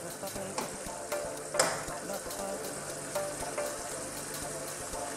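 Bihon rice noodles frying in a pan with chicken for Filipino gisadong bihon, a steady sizzle broken by a few scraping stirs, close and moderately loud with no one talking.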